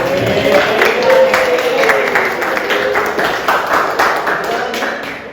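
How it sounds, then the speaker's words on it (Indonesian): An audience claps in a classroom teaching session, a brisk crowd applause with scattered louder claps, close and continuous, briefly overlapping a raised voice at the start before settling into steady clapping. "Boleh tepuk tangan lagi."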